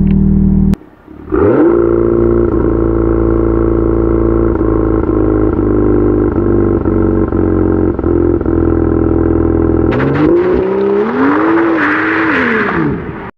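A BMW M2 with dual-clutch gearbox held at steady high revs on launch control, a loud, close, constant engine drone after a brief dip, then surging and rising in pitch as it launches.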